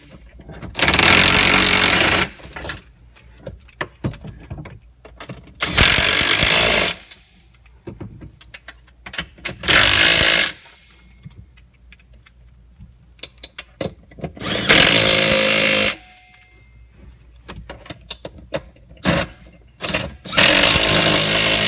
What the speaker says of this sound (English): Now we can go ahead and tighten our bolts up